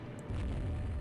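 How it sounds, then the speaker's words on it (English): Torpedo hits exploding on warships in the naval strategy game Rule The Waves 2: a deep, loud low rumbling boom that swells in after a short quiet start and sustains through to the end. "Okay, 2 torpedo hits there."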